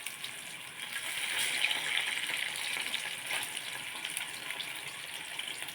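Chicken frying in boiling oil in a plain, non-nonstick wok, giving a steady, close sizzling hiss that holds throughout with little variation.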